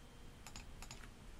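A few quick keystrokes on a computer keyboard entering a number into CAD modelling software, two short bursts of clicks over a steady low hum, close and fairly faint.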